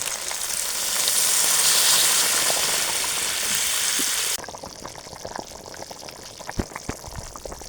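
Hot water poured into a pan of sizzling, simmering duck curry made from free-range country duck, a loud hiss and bubbling swelling over several seconds before cutting off abruptly to quieter, sparse crackling of the cooking meat.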